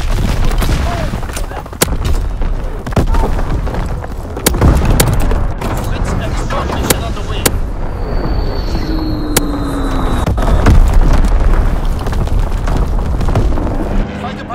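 Artillery barrage in Call of Duty: WWII, with repeated sharp blasts and booms scattered over continuous battlefield rumble, a whistling streak passing overhead, and radio-style voices talking between the explosions.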